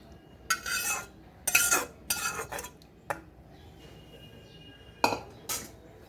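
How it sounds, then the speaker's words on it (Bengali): Fish curry cooked with oranges is scraped from a pan into a serving bowl, giving close, intermittent bursts of metal spoon scraping and clinking against pot and bowl, separated by short quiet gaps with no talk. "আর মাছটাকেও এবার সার্ভিং বোলের মধ্যে ঢেলে নিচ্ছি।"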